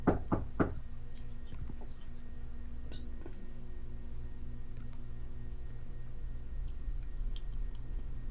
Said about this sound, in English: moments later a knocking from the back door ensued